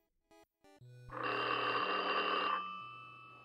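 A telephone rings once in a single sustained bell-like burst lasting over a second, preceded by a few short clicks and followed by a fading hum.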